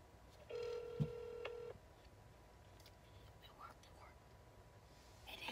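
An outgoing phone call rings once on the line as a single faint tone, with quiet whispering nearby and soft room noise afterward.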